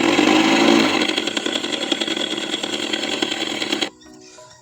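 Ola scooter running Move OS 3.0 vintage sound mode, imitating an old scooter like the Bajaj Chetak: a loud, steady buzzing engine drone that holds for nearly four seconds, then cuts off abruptly and leaves near silence.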